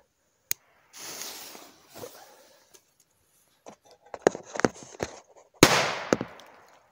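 A string of firecrackers going off in irregular bursts, sharp cracks and pops scattered over several seconds, ending in a louder crackling volley.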